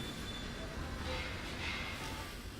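Trains run back and forth across a busy rail network in the Railway Empire video game, heard as a steady, dense rumble of rolling wagons with no pauses.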